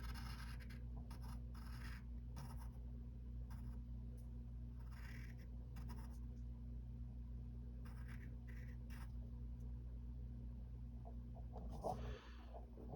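Pencil sketches a cartoon rabbit's chest on paper in short, close scratchy strokes separated by brief pauses, over a low steady hum.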